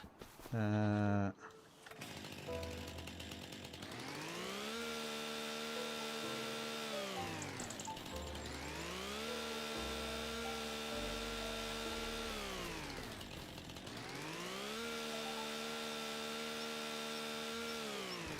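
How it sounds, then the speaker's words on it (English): Chainsaw in Farming Simulator clearing tree stumps, its engine revving up and whining down in three long repeating cycles after a short startup clatter, steady and fairly close. "Get my chainsaw out."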